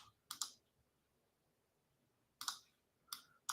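Keys on a computer keyboard clack in two short bursts of a few strokes each, close and fairly quiet, with near silence between them.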